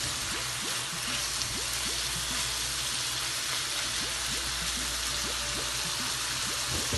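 Goat liver (kaleji) sizzling in a pan over full high heat, a steady dense crackle and hiss with frequent small pops, close and continuous with no talking.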